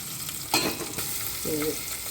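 Cumin, asafoetida and curry leaves sizzle in oil for a traditional kadhi tempering, a steady moderate hiss with a brief louder burst and stirring sounds partway through.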